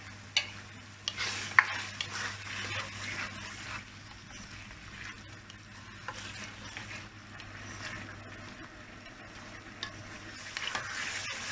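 Meat karahi with ginger fries in a pan, a steady sizzle under repeated scraping and stirring strokes, with occasional louder clinks of the utensil against the metal.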